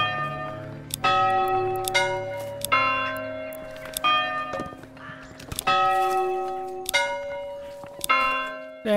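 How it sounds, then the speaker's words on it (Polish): Church bells ring in the medieval strategy game Manor Lords, several loud rich strikes repeating at a slow uneven rhythm, each leaving a long shimmering decay, with no talking over them. "Ulepszenie, dźwięk dzwonów."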